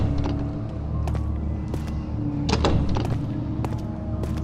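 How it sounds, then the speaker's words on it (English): A locked door in Amnesia: The Dark Descent rattles and clunks in a handful of sharp, uneven jolts over a low ambient hum, close and fairly loud, with no talking. "I can't open that door."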